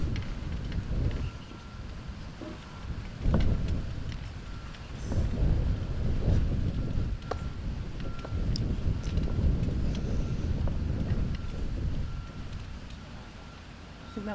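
Gust of wind buffeting an outdoor croquet lawn during a women's golf croquet world championship match, a steady low rumble of microphone wind noise that swells in several surges throughout.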